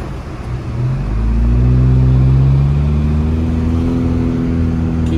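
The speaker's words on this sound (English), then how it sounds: "Traffic flowing." A car drives past on a snowy mountain road at Onyx Summit in Big Bear, its engine hum rising and sweeping by close and loud, with the pitch gliding down as it passes and fades.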